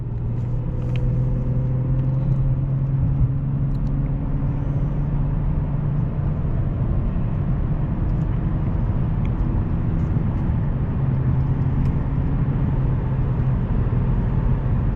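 Steady road and wind roar inside a 1998 Lexus GS300 cruising at about 70 mph on the highway, a constant low rumble with no talking.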